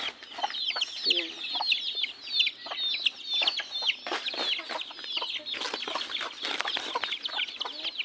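Chickens cluck softly and steadily alongside a mother hen kept with chicks, with occasional short chirps and fowl calls close by in a quiet coop.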